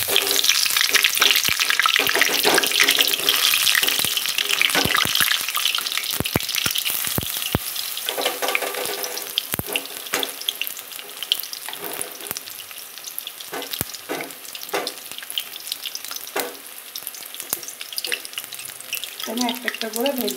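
Pumpkin flower pakoras fry in hot oil, a steady close sizzle running throughout with scattered crackles and clinks of a utensil stirring, plus a brief splash of running water near the end.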